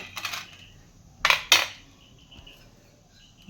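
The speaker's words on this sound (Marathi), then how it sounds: "आपला ब्रेड पिझ्झा पण तयार आहे हा काढून एका प्लेटमध्ये ठेवते मी" A homemade bread pizza is lifted out of the pan and set onto a plate, giving two sharp clinks of utensil against dishware, close and fairly quiet, after a faint earlier scrape.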